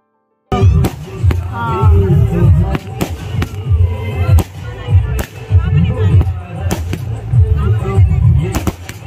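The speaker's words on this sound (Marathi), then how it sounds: "फटाके फुटले की पूर्ण गावाला समजून जातं की लग्नाचा कार्यक्रम आहे" Fireworks burst at a village wedding, loud sharp bangs and crackles arriving in irregular bursts close by, with crowd voices and chatter underneath.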